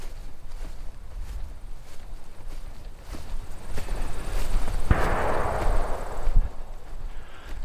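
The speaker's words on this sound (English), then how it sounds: "Sounded like a gunshot off in the distance." A distant gunshot rings out in a quiet forest campground, a single sharp crack followed by a broad, fading rumble that echoes through the woods over faint background ambience.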